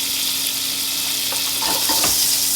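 Two tablespoons of butter melt on low heat in a pan for a roux, giving a steady, close hiss and sizzle with a few soft bubbling crackles.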